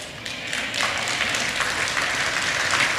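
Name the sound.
audience applause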